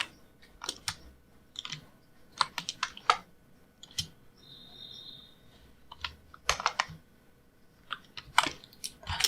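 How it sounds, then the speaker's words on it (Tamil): Fast keystrokes on a computer keyboard while HTML is entered in capital letters, arriving in quick irregular bursts of clicks with short pauses between them, close and clear, with no voices. "HTML டைப் பண்ணிக்கிறேன் கேப்ஸில்."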